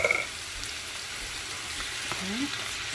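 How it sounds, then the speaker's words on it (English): Pineapple chunks with bite-sized red and green pepper pieces sizzle in a frying pan with chicken, a continuous close crackling fry with faint stirring scrapes and a short clink at the start. "Then I'm going to add the pineapples."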